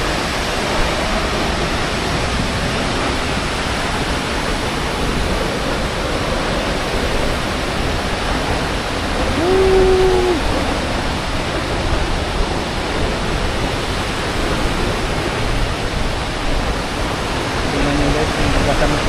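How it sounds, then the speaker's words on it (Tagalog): Aw-Asen Falls pours down in a loud, unbroken rush of water, a dense roaring wash that fills the whole scene from start to finish, with faint voices briefly under it. "Tingnan nyo guys, yung bagatan ng tubig."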